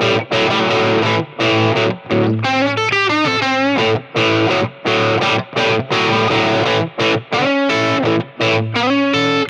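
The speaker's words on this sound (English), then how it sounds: "let's just kind of show you what the reverb will do" Electric guitar played through a Monoprice Stage Right 15 tube amp with its reverb engaged, mildly distorted chords and single-note runs ringing loud and close, with short gaps between phrases and no talking.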